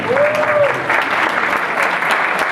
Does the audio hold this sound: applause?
yes